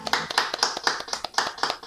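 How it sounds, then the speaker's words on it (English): Brief, close applause at an open mic night: a few people clap in a quick, fairly even rhythm for under two seconds. "Give a round of applause to Fred."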